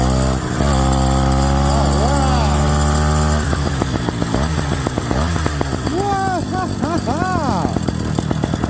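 An 85cc Phantom 85 V3 engine kit bike runs up close, idling smoothly without rattle, then revving up and down in repeated rising and falling bursts, with a brief spoken remark.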